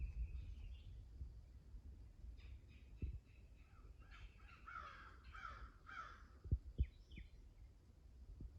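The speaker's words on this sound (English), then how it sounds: "that crow sounding off," A crow caws in Florida woods, a run of hoarse calls at some distance, faint over a low background rumble with a few soft thumps.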